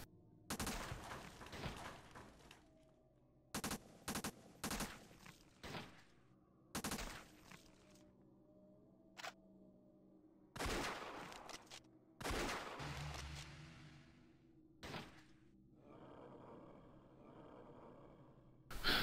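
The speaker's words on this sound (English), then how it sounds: "See, gunning them down like it's nothing." Gunfire in the flash game SAS: Zombie Assault, with repeated bursts of rapid shots and a few single cracks separated by short pauses, all at low volume and without talking.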